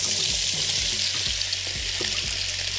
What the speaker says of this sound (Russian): И отправляем жариться картофель.